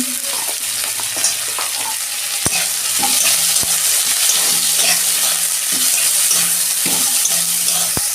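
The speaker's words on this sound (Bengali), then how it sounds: "আমি দুটো পেঁয়াজ কেটেছিলাম মিডিয়াম সাইজে, দিয়ে দিচ্ছি।" Two medium-sized chopped onions, lightly salted, sizzle loudly in hot oil in a pan as a spatula stirs them with occasional scrapes and sharp clacks; a dense, continuous fry with no talking.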